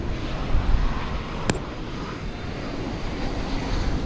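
A Spirit Airlines jet at DFW Airport at night gives a steady, broad engine roar that stays fairly distant and even throughout, with a faint brief tick partway through.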